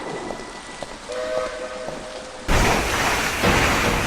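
A train strikes the player in the horror game Trap: faint whistle-like tones and quiet ambience give way to a sudden loud, sustained rushing roar that fills the rest of the moment.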